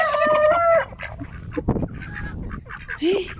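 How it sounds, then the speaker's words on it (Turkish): Turkeys gobble close by on a village farm, a long wavering cry followed by scattered clucks and a final rising call, loud and unaccompanied by talk. "Evet hindiler."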